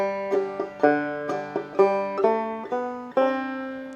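Clawhammer banjo picking the tune of I'll Fly Away, a steady run of bright plucked notes with quick decays, played clearly and alone at moderate volume.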